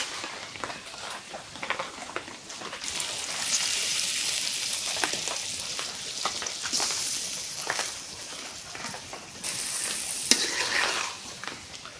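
Native koi fish frying in a pan of cooked-down spiced masala, with a steady sizzle and occasional stirring scrapes throughout and no talking.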